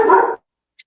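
A single short, loud dog bark right up close, then silence apart from a faint tick.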